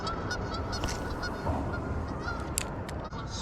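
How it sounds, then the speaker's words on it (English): A goose honks loudly and almost without pause during a fishing outing, its repeated calls close and steady against outdoor background noise. "Goose, be quiet."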